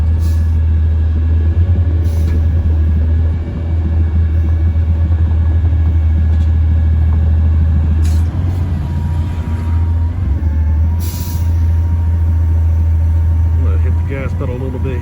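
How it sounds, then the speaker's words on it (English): A roll-off truck idles in gear at a landfill while dropping its box, with a loud, steady low engine rumble throughout, occasional hissing bursts and someone talking over it. "about now's when I do want to put the truck in gear, because I need it to creep forward as I'm dropping it off"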